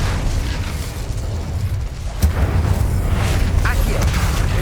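Incendio fire spell cast in Hogwarts Legacy, a loud whooshing burst with a sharp crack partway through over a dense, rumbling bed of game sound.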